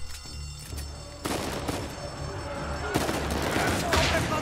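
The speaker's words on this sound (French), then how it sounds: "appuyer sur trick pour tirer" Rapid gunfire bursts from the video game Uncharted 4: A Thief's End, starting quietly then turning into a dense, loud fusillade of repeated shots with booming impacts that continues to the end, with no talk over it.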